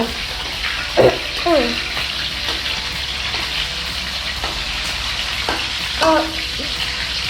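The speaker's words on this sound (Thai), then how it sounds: "เดี๋ยวเราต้องทอดไอ้นี่ให้หมดก่อน" Sandwich ingredients frying in a pan make a steady loud sizzle, with occasional scrapes and stirring clatter and faint voices in the background.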